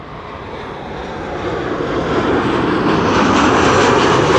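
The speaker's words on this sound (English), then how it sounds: "There's an airplane turning in the background" An airliner on approach to Amsterdam Schiphol, its engine roar loud and broadband, swelling steadily as it draws nearer with no talk over it.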